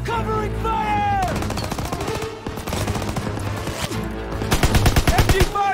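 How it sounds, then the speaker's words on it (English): Sustained machine gun fire in the World War II shooter Call of Duty: WW2, rapid bursts with shouted soldier voices over a music-laden battlefield, growing louder near the end. "Lay down fire on that MG!"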